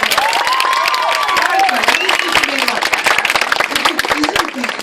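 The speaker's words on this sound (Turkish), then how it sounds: "Berivan'a da bir alkış." A crowd at a high school quiz competition breaks into loud, sustained applause, dense clapping with some cheering and shouts mixed in.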